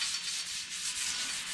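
Sandpaper of 320 grit rubs steadily across a painted panel of a C10 muscle truck, a close, continuous hiss with slight back-and-forth swells and no talking.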